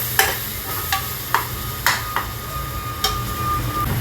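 Mutton keema frying with ginger-garlic paste in a pan, with a steady close sizzle under repeated sharp scrapes and taps of a spoon stirring the mince, about six distinct strokes spread irregularly across the clip, no voices.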